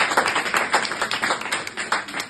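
At a stand-up comedy show, an audience claps steadily in a brief, moderate burst of overlapping hand claps with no talk over it.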